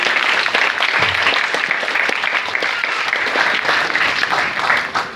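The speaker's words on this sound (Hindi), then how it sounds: "एक बार मैं चाहूंगा उड़ान टीम के लिए भी जोरदार तालियां बजाकर।" Loud, dense, sustained applause from a large audience cheering the Udaan team at a Hindi-language promotion event, a continuous roar of clapping throughout that eases slightly at the very end.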